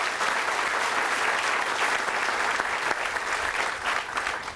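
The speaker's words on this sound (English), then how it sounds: "Let's give our Congressman a round of applause for fighting the good fight for manufacturing" An audience applauds a Congressman at a manufacturing building event, a loud, sustained patter of many hands clapping together that holds steady before easing slightly at the end.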